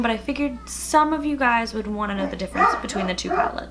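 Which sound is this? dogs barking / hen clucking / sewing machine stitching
dogs barking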